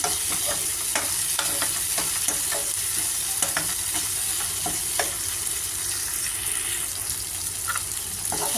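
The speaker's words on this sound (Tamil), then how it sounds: "தக்காளி நல்லா வதங்கிடுச்சு." Tomato sautés in a pan for prawn pepper fry, with a constant loud sizzle and frying hiss and many small clicks of a spatula stirring throughout.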